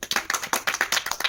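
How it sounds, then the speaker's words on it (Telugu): Children clap together in a classroom counting activity: a quick series of sharp, fairly close claps in an uneven rhythm, about a dozen bursts within a second or so, with no voices. "క్లాప్స్"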